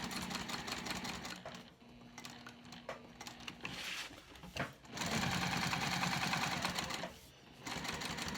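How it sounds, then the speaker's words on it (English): A sewing machine basting along the sides and bottom of a natural cork crossbody bag, running in fast steady stitching bursts up close with short pauses between them. "Then I'm also going to baste along the sides and the bottom."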